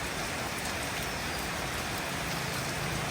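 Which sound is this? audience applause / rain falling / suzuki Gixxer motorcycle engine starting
rain falling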